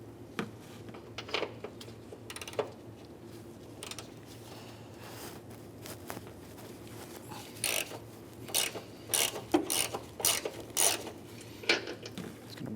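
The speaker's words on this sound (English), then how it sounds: "Now we have access to our top 3 strut bolts. We're going to remove those." A ratchet clicks in short bursts while loosening the 15mm top strut bolts on a 2007-2013 Acura MDX, the clicks and clanks growing busier toward the end over a quiet workshop hum.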